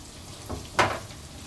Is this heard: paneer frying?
yes